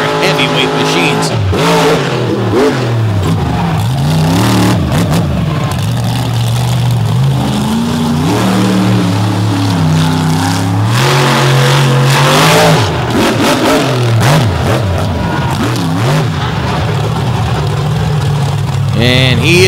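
A heavyweight modern monster truck engine revs hard and continuously while the truck is stood up on its rear wheels at a monster truck event in Brooksville, with loud roaring throttle swells and a commentator talking over it.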